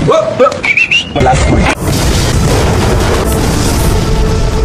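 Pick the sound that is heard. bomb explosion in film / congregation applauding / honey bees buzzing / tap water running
bomb explosion in film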